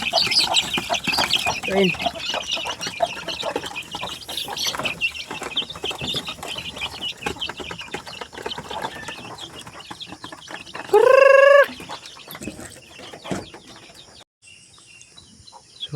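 Farm chicks and chickens cluck and cheep close by, a busy scatter of small calls with one sharp louder squawk near the end, and someone speaks briefly among them.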